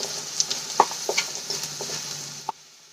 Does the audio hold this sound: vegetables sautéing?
yes